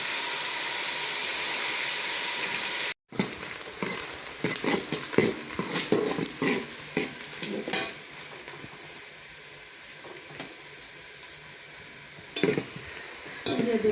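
Fresh spinach dropped into water at a rolling boil in a kadai (wok), a short hiss followed by broken bubbling and sizzling, with scattered splashes and stirring clatters close by.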